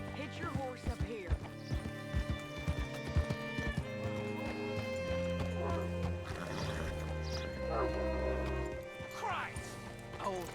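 Horse hooves clip-clop in a steady gait through Red Dead Redemption 2 gameplay, with a whinny rising partway through; game music and voices continue underneath.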